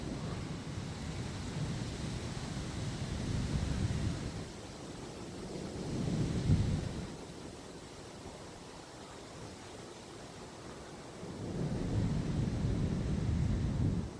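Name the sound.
thunder during a summer thunderstorm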